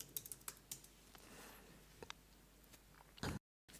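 Password being typed on a Mac computer keyboard, a quick run of quiet key clicks at first, then scattered taps and a louder final keystroke before a brief cut to silence, with no talk.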